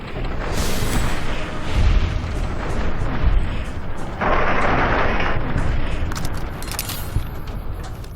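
A gun with heavy recoil fires in a Fallout video game, Tale of Two Wastelands: a sustained, loud barrage of booming, explosive bursts and rumbling blasts that fills the whole stretch, with sharp pops near the end.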